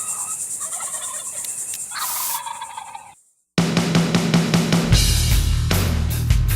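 A wild turkey gobbles repeatedly in central Missouri woods during a spring hunt, loud rattling calls coming in bursts before a short silence, then more close gobbling layered with busy rustle.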